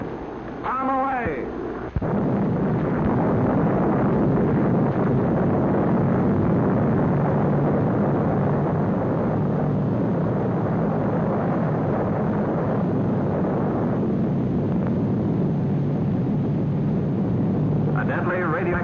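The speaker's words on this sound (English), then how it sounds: "Cover your eyes. Now, bomb away!" A 1946 atomic bomb test explosion erupts as a loud, sustained roar after a brief voice, a dense rumbling blast that holds steady for many seconds on an old film soundtrack.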